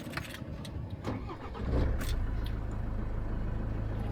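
A Land Rover is started with the key: a few clicks and brief cranking, then the engine catches at about the midpoint and settles into a steady, close low idle.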